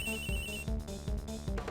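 A cell phone rings in the video game Miles Edgeworth: Investigations 2, a looping electronic ringtone with a steady, repeating pulse, clear and close with no voices.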